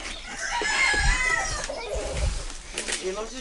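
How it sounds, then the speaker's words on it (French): A flock of small chickens clucking and chirping nearby while people talk over them. "Une des nombreuses bandes de petits poulets qui apparaissent ici."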